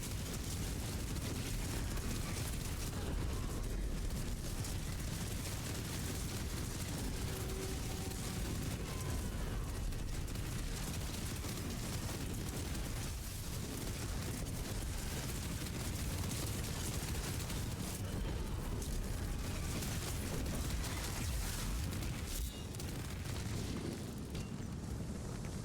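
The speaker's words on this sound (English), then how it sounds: "I'm casting the corpse explosion with the multiple corpses" Corpse explosion spells blasting repeatedly in a video game, multiple corpses detonating in a dense, continuous barrage of booms and bursts that stays loud throughout with no clear pauses.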